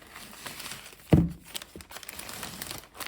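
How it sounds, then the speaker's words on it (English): A plastic bag crinkles as gluten-free bread dough is put inside it, soft rustling throughout with one louder crinkle near the middle, close by and with no talking. "to put it inside a plastic bag"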